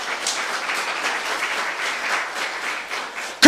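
Church congregation at a youth service breaks into steady, sustained applause, many hands clapping together at moderate loudness for several seconds without talk.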